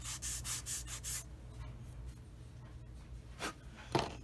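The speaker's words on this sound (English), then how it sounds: "Needs a little bit of sanding right there." Quiet sanding of a plastic part on a Tamiya 1/35 scale Sd.Kfz. 250/3 Greif half-track model, with a quick burst of soft rhythmic rubbing strokes followed by scattered faint scrapes and light taps, close and with no voices.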